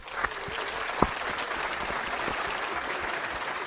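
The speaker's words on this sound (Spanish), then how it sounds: "Les pido un muy fuerte aplauso para el señor Leo Piccioli" An audience applauds a speaker, Leo Piccioli, as he is welcomed on stage: dense, steady clapping from a crowd, moderately loud and even, with a couple of sharper individual claps standing out near the start.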